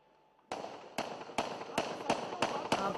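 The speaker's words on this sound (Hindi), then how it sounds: "फायरिंग एकदम फिर से तेज होती हुई, बहुत ज्यादा तेज" Gunfire during a terrorist attack encounter at a police station, seven sharp separate cracks about half a second apart, each leaving a ringing tail, fairly distant with no talk.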